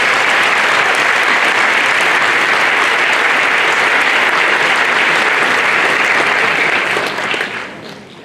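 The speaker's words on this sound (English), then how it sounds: "Let's give ourselves a round of applause." A graduation audience breaks into loud, sustained applause, a dense wash of clapping that holds steady throughout, then begins to thin and fade in the final second.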